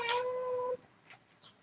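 A tiny kitten gives a single short, bright meow, close and clear, followed by faint soft rustling.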